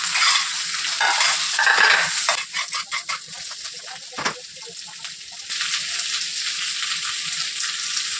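Yellow capsicum, red capsicum and onion are stir-fried in a hot pan for crispy chili chicken, loud sizzling with rhythmic tossing and scraping. The hiss drops briefly midway, then returns steady and close, with no talking.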